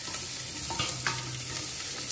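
Roughly chopped onion sautéing with garlic in a pan for green peas soup, a steady close sizzle with a few scraping stirs of a spoon across the pan.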